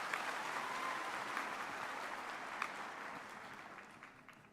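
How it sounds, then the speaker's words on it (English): Quiet applause from a university graduation audience in a hall, a soft continuous patter of many hands that slowly fades out. "Another round of applause, please, for our artists."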